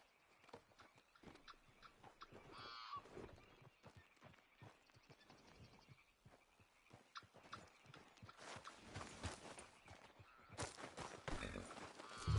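Horse hooves clip-clopping in Red Dead Redemption 2, a steady rhythmic trot running throughout under game ambience, fairly faint with brief louder moments toward the end.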